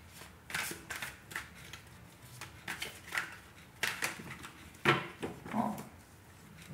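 A deck of tarot cards is cut and shuffled close by in a series of crisp riffling bursts and slaps. The bursts are separated by short pauses, and no one speaks.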